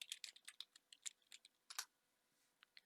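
Computer keyboard typing in quick irregular bursts of clicking keystrokes, close and fairly quiet, with a pause before a few last taps; no talking.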